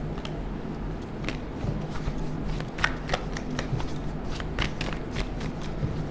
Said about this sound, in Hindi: एक ही शफल करेंगे